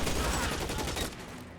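A short, dense burst of gunshots fires during an L.A. Noire hostage standoff, loud at first and then quickly fading, with no talking heard.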